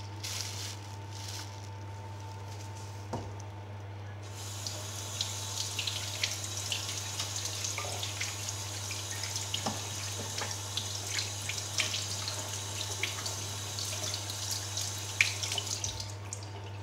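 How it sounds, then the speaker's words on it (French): Tap water runs steadily into a sink while carrots are rinsed under it, a close, continuous stream with small splashes and shifts as the vegetables move, over a low steady hum. "Donc je vais commencer par rincer les carottes."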